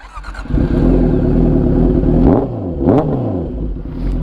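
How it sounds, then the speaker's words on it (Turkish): A Honda CBR650R motorcycle revs hard through its exhaust, a loud, close engine roar that holds steady before two sharp rev blips that rise and drop back, with no talking over it. "İlk egzoz sesimizi dinleyin."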